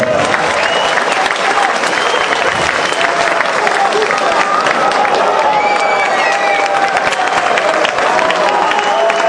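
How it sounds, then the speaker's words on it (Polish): Loud, continuous crowd applause with cheering fills an exhibition fight venue after a bout involving Belarusian fighters, dense and steady throughout, with a voice speaking over it. "wielkie brawa dla Białorusinów"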